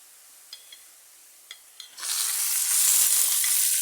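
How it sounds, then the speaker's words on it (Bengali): Small pieces of fish jhuri go into hot oil with fried spices and start a loud, steady sizzle that takes over after a few light clinks. The sizzle keeps going close by while the pieces are stirred. "এখন আমি ভালোভাবে তেলের ভিতরে নেড়ে ছেড়ে ভেজে নেব।"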